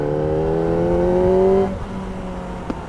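A Kawasaki ZX-4RR motorcycle's high-revving inline engine screams at a steady pitch, then the revs suddenly drop off and it settles back to a lower drone with a brief blip near the end.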